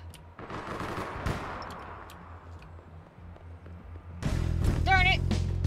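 Gunfire from shooting people in the video game APB Reloaded: a few sharp shots early on, then a dense, loud burst toward the end mixed with whooping game effects, with excited talk running over it.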